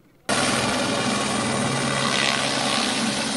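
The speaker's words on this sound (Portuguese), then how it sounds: "um helicóptero da Polícia Militar aparece sobrevoando a região em baixa altitude" A Military Police helicopter flies low overhead, its loud, steady rotor and engine roar starting abruptly after a brief quiet moment and holding constant to the end.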